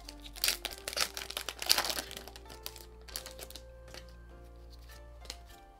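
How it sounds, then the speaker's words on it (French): Crinkly plastic-foil wrappers of Pokémon booster packs from an EV5 Temporal Forces tripack being torn open, a flurry of dense crackling bursts up close that thins into a few scattered rustles over a steady low hum. "le papier, l'emballage de ces boosters, c'est vraiment nimp"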